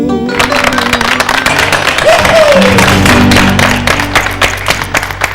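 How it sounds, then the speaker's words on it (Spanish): Loud applause from an audience for a harp-and-song folk music performance, dense continuous clapping mixed with crowd noise and a few voices, tapering slightly toward the end. "Fuerte los aplausos para Juan Carlos Oviedo, Tito Digno e Iván Acuña."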